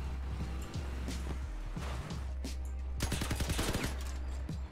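The M-39 Legendary machine gun in the vehicle combat game Crossout fires in several rapid bursts with a low engine hum underneath, the rattling volleys close and loud, heaviest in the final seconds.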